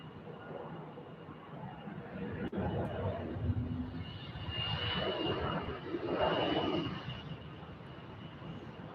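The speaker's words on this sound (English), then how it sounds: "here's our G650 getting ready to roll" A Gulfstream G650 business jet spools up for takeoff at Salt Lake City airport, its engines building into a loud, steady roar with a thin high whine, heard from a distance outdoors.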